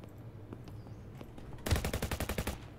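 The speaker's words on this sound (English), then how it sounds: "Someone got shot." Rapid automatic gunfire in the video game Internet Cafe Simulator 2, a sudden loud burst of about a dozen evenly spaced shots following a quiet stretch.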